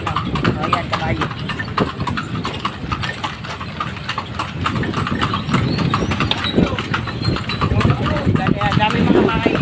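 Steady clip-clop of a horse's hooves pulling a calesa carriage through Vigan City, a brisk even rhythm close by, with voices talking and a low engine idling in the background.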